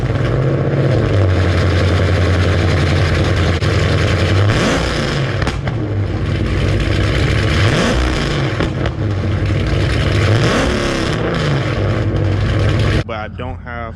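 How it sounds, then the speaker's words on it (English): A Dodge Challenger Scat Pack with JBA long-tube headers and a straight-pipe exhaust revs loudly, its deep rumble rising and falling in repeated throttle blips before cutting off abruptly near the end. "Now I do got like a cold start. I got some revs in place,"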